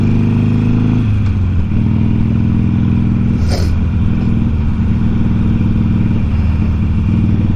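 A motorcycle cruising along a road, its engine a loud, close, steady drone with wind rush and a shift in pitch early on, with no talking.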